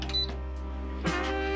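A KG kerosene fan heater, model FH-WZ3622BY, gives a short electronic beep when its power switch is pressed, a faint tone over a low steady hum, followed by a brief click.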